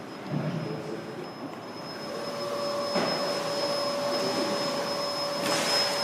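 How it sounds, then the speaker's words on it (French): A steady, droning vacuum cleaner runs close by in a coding school, a constant whine with a broad rushing hiss that grows slightly louder partway through. "je suis désolé pour le bruit, il y a un aspirateur juste à côté"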